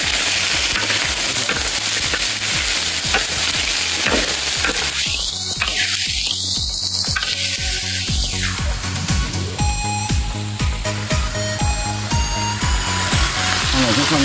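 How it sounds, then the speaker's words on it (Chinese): Pig trotters stir-fried in a wok give a loud, continuous sizzle with repeated metallic scraping and clanking of a spatula against the pan, running steadily throughout. "好嘞，炒一炒啊。"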